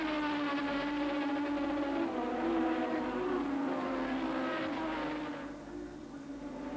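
A racing motorcycle accelerates hard down the straight at Oran Park in a 1982 Swann Series round. A steady, strong engine drone rises in pitch, then drops and fades slightly near the end.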